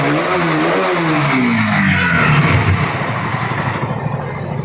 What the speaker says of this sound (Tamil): வண்டி பீட்டு சவுண்டு